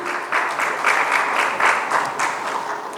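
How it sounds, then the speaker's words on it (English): An audience at an agricultural panel discussion applauds the speakers, steady clapping from a crowd, sustained for a few seconds at moderate distance. "Let's hear a round of applause for each of them"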